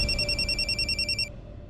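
A telephone rings with a bright, electronic trill that repeats in rapid pulses for just over a second and then cuts off, leaving a low background hum.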